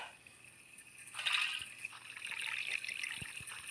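Water bubbling and trickling as noodles are boiled in the Toca Kitchen 2 cooking game, a soft steady liquid wash that swells midway and continues with small splashy ticks.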